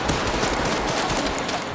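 A gun fires repeatedly in Resident Evil Requiem, a fast run of close shots with a busy, dense rattle over a continuous rumbling background, no voices.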